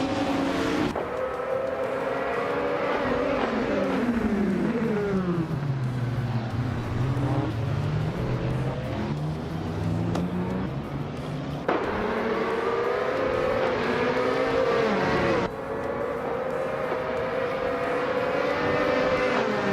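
Race cars roar away at the start of a race at Bahrain in a video game, engines revving continuously with rising and falling pitch as they shift gears, loud and close throughout, no voices.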